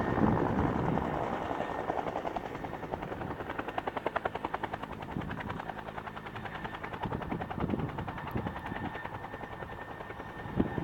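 A Vietnam-era Bell Huey Hog helicopter flies close and loud, its rotor thumping in a steady rapid rhythm over a constant engine roar throughout.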